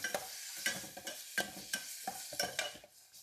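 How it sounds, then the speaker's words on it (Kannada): Tomatoes added to frying onions for chicken biryani: a soft sizzle broken by repeated clinks and scrapes of a spoon stirring against the pan in an uneven rhythm, close-up and without speech. "ಸೊ ಟೊಮ್ಯಾಟೊ ಹಾಕ್ತಾ ಇದ್ದೀನಿ,"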